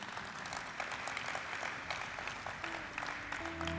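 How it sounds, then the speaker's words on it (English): A large audience at a stock exchange event gives a sustained round of applause, dense and even clapping throughout, heard somewhat distant and faint, with a few tonal hums beneath near the end. "Can we have a huge round of applause for them?"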